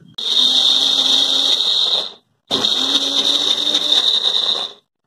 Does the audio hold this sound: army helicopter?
no